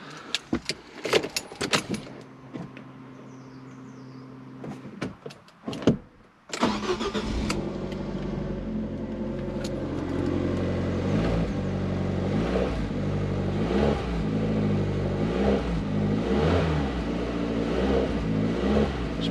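Keys jangle and click, then a car engine cranks on a cold start and catches, settling into a loud rough idle with rising and falling revs close by.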